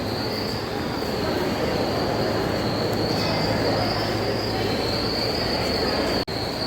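A train pulls into Puri railway station, its wheels squealing and rumbling steadily and loudly close by, with a high metallic screech holding throughout.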